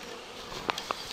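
Honey bees buzz faintly around jars on a hive, a soft continuous hum with a few brief louder passes close by.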